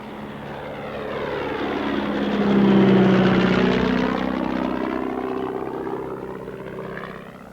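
A de Havilland Chipmunk aerobatic plane at an air show flies very low over the crowd, its propeller engine droning and swelling as it passes close, then easing off while staying steady and prominent with no voices.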